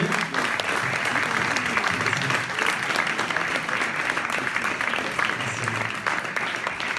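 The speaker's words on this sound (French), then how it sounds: "on peut les applaudir et les remercier." Sustained audience applause at a French film festival screening evening, dense steady clapping from a large crowd filling the whole stretch at even loudness, with no voices over it.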